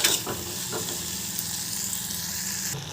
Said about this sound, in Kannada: ಒಂದು ಎರಡು ಮೂರು ನಿಮಿಷ ಫ್ರೈ ಮಾಡ್ಕೊಳ್ಳಿ